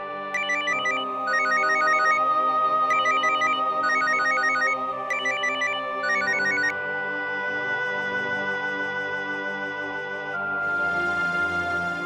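A mobile phone ringtone plays in a domestic TV drama scene: a bright electronic melody repeats in short looping phrases, then settles into a steadier sustained tone, loud and close with no talking.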